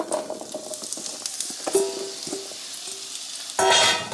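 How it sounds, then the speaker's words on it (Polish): Radishes frying in melted butter in a pan, a steady close sizzle with scattered crackles and stirring clicks, growing louder near the end as they drop in. "Wrzucam rzodkiewkę."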